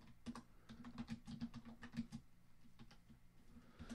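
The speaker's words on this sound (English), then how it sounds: "Hang on, dang it, I'm typing something." Fast, uneven typing on a computer keyboard during a talk radio show, a close run of sharp key clicks and taps filling the whole stretch with short pauses, no talking over it.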